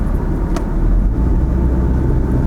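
A steady low road and engine rumble inside a Hyundai Accent 1.3 automatic running on LPG while driving, constant and close with no talk.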